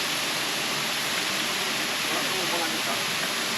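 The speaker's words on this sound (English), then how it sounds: "We're under the cliff passage and a beautiful waterfall" Steady, broadband rushing of a waterfall under a cliff passage into a shallow pond at Rock City, Georgia, a constant hiss-like roar with no breaks, moderately loud throughout.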